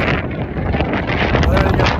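Strong wind buffeting a phone microphone beside a mountain lake, a loud continuous roaring rumble with gusty swells and no pauses, close and overwhelming.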